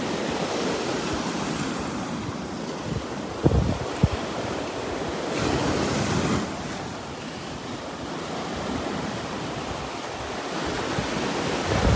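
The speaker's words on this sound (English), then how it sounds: "These waves." Gulf surf washes onto a sandy beach on a breezy morning, a broad continuous roar of breaking waves with wind buffeting the microphone and a couple of short knocks partway through.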